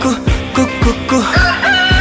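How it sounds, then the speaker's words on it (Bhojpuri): Rooster crowing samples set into a Bhojpuri song, a loud close series of about six short crows repeating in a steady rhythm over the music. "कुकुरु कुकु मुर्गा जब बोली रे पिया"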